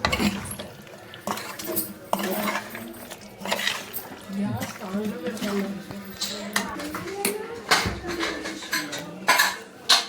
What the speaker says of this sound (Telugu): 1 అవర్ తర్వాత గోడంబి, కొన్ని మిరపకాయలు వేసుకుంటున్నాం. ఇప్పుడు కలుపుకుందాం.